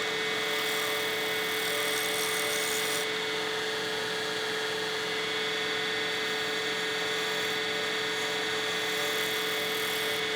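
A wood lathe refines the curved barrel profile of a premium pen kit blank, giving a steady motor hum under a continuous dry rubbing rasp that runs the whole time without pause.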